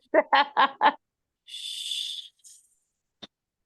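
A voice imitates a snake's hiss as it moves through dry leaves: a soft, breathy hiss of about a second follows a few short voiced sounds, then a brief second hiss and a single click, all quiet and close.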